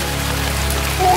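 Steady rainfall from the video game Resident Evil 4 Remake, a loud continuous hiss of drops on surfaces with a low constant rumble beneath and a brief tonal sound near the end.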